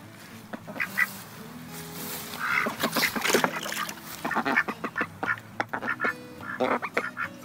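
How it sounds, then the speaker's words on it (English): Ducks in a garden dabble in fresh water, quacking repeatedly at close range amid soft splashing, with busy overlapping calls and occasional honk-like notes. "Look at the ducks having a little paddle and a swim."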